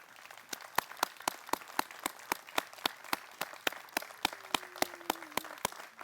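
A small audience applauds veterans' post members at a Memorial Day ceremony, with sparse, evenly spaced claps ringing out in a steady rhythm.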